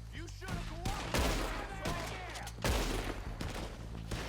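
Rapid gunfire from a Red Dead Redemption 2 shootout, volleys of overlapping shots crackling in bursts across the whole stretch, loud and dense with voices talking over them.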